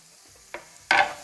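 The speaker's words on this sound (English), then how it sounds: "the courgette that I've just chopped, I'm going to add that in" Chopped courgette tipped into a hot frying pan, giving a soft clatter followed by a louder, short burst of sizzling and stirring, close and alone.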